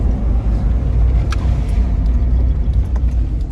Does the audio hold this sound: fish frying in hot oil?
no